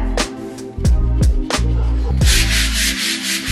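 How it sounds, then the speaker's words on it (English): Sandpaper of 400 grit rubs over painted wooden stairs to smooth them, in several short scraping strokes that build into a steadier, louder stretch of sanding near the end. "I came back in with a 400 grit, and I started to sand those areas down nice and smooth"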